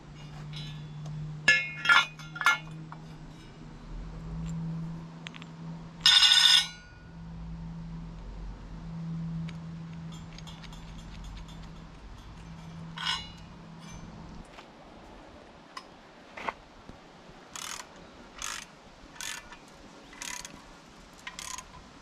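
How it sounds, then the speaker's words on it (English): Washers and nuts on a DIY cabin deck being fitted and then tightened with a socket ratchet: early metallic clinks, a steady low machine hum, then scattered clicks and short bursts of ratcheting, close and moderate. "then I'll cinch them down with a socket"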